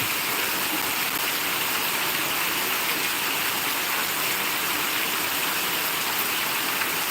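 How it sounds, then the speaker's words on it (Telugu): Heavy rain pours down steadily in Ramancha, a dense, unbroken hiss that stays loud and even throughout, with no voices. "వర్షం పడుతుంది ఫుల్"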